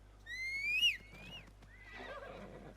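A horse whinnies loudly in Assassin's Creed Mirage, one rising, wavering neigh that cuts off sharply, followed by softer snorting and shuffling with a faint hum underneath.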